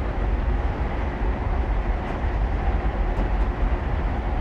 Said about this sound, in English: I'm just going to idle the power and allow the train to coast.